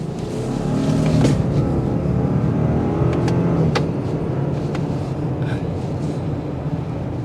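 A 2023 Subaru Outback Wilderness accelerating on the road, with steady, loud engine and road noise building through the run and a few brief clicks, and no talking.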